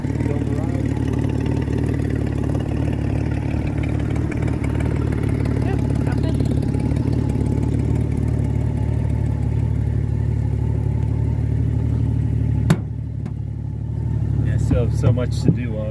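A Honda Goldwing motorcycle engine runs on a test drive, a steady low, loud drone with a rumbling hum that holds throughout, then briefly dips and shifts near the end.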